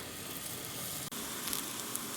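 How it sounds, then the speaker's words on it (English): Rings of summer squash frying in hot oil, a steady broad hiss and sizzle with faint crackles, close and continuous. "so far they're frying up really, really nice"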